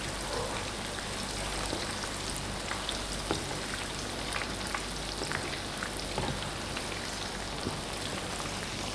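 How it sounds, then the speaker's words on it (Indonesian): Eggplant slices frying in hot oil, a steady dense crackle and sizzle with scattered pops that continues without pause throughout. "Ya, jadi kita goreng."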